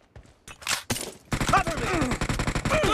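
Gunfire in PUBG Mobile: a few isolated shots, then a dense burst of rapid automatic fire with ringing tails, loud and close, with game voice lines mixed in.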